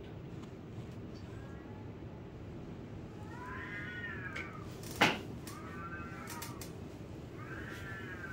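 A cat meows several times in drawn-out, wavering cries over a low, steady background rumble, with a sharp click in the middle and a few brief ticks near the end; no talking.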